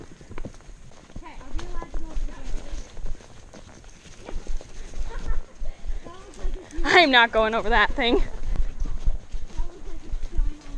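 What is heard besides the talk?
horse hooves walking over rocks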